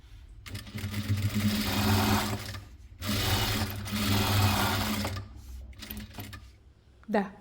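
Sewing machine stitching a fabric placemat, running in two long steady whirring bursts separated by a short pause, close and fairly loud, then slowing to a stop.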